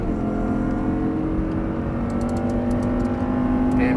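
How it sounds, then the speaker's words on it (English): Audi R8 engine on a race track, a loud steady drone with a rising pitch as it pulls through an upshift, close and continuous with no talk. "And upshift again."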